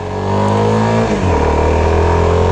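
A CFMOTO 250SR sport motorcycle engine drones loudly and steadily close by, its pitch shifting partway through as the revs change, with no talking.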